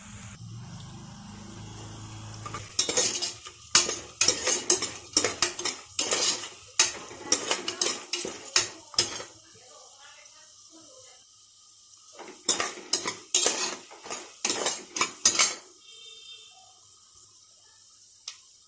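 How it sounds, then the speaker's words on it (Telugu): Dry red chillies and cashews frying in a pan for tomato upma, with repeated sharp metal spoon scrapes and clinks against the pan over a soft sizzle, pausing midway before another run of stirring. "ఎండుమిరపకాయలు, జీడిపప్పు వేసుకొని బాగా వేయించుకోవాలి"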